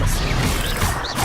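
Expelliarmus disarming spell cast in Hogwarts Legacy: a loud, dense rush of magical effect noise with faint swooping tones, sustained for just over a second without pause.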